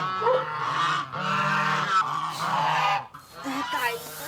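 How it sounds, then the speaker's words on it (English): Goose honking in a series of loud, nasal, close calls, several bursts in quick succession with brief pauses, alone without talk. "This goose is really stupid."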